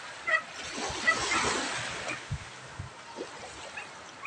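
Sea water splashing and washing onto a beach shore with a rising tide, a close, steady rush of surf with small splashes throughout.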